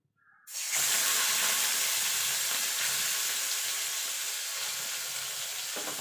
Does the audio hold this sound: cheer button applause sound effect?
no